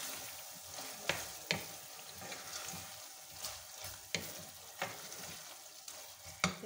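Taro (arvi) pieces stir-fried with spices in a pan, with a steady soft sizzle broken by sharp scraping clinks of a spatula stirring at irregular intervals, close up and with no voices.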